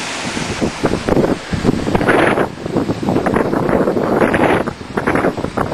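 Strong wind buffets the microphone at a fire in Caloundra in loud, gusting roars that surge and fade continuously, with a rushing, surf-like quality and no speech.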